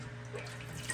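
A steady, low trickle of water flowing from a fish tank into its filter runs continuously with a faint hum underneath, quiet and close.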